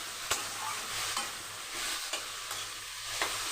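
Potatoes fry in a pan with a steady hissing sizzle and occasional soft scrapes of a spatula, close and continuous, with no talk.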